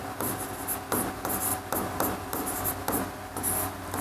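A pen scratches across paper in steady, close strokes while a geometry construction for a Class 10 circles exercise is worked out, with short rhythmic bursts of writing and no talking.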